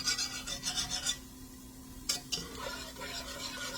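A spoon stirs sausage into thick broccoli cheese soup in a pot, making a steady rhythmic scraping and rubbing for about a second, then a couple of sharper clinks against the pot followed by softer stirring.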